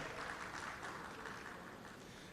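Audience applause at a stage event honouring Dr. Subhash Chandra and actor Ajay Devgn, a steady, dense wash of clapping from a large crowd, moderately faint and continuous throughout.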